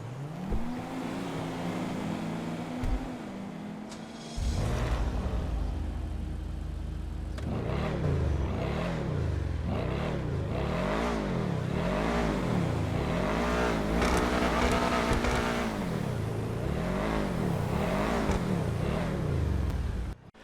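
A Schlagen GT sports car engine in GTA 5 idles, then revs and accelerates repeatedly in rising and falling surges, loud and close, with no talking.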